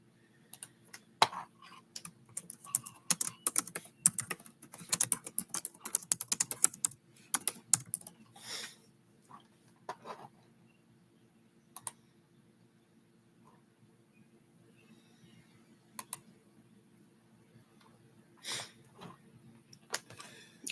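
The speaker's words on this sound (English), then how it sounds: "Here, I'll type it in." Computer keyboard typing in bursts of quick clicks, fairly close, dense for the first eight seconds then sparser scattered keystrokes with pauses, over a low steady hum in a quiet room.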